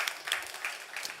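Congregation at a church service applauding to welcome a missionary to the front, a soft, diffuse patter of many hands, steady and fairly faint, with no voices over it.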